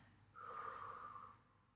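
A slow, breathy exhale through the mouth during a home Pilates workout, a single soft, airy whoosh swelling and fading over about a second, close and quiet with no talking.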